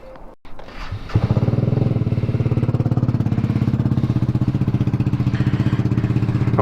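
A motorcycle engine starts up and runs steadily at a close, loud idle with a fast, even pulsing throb, during a stop to refuel several bikes.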